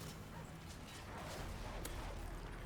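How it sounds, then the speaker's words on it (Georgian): Dogs bark in a Call of Duty Modern Warfare 3 match, short yips and barks scattered over steady loud game noise and gunfire-like din throughout. "რამდენი ძაღლია ძმაო რა"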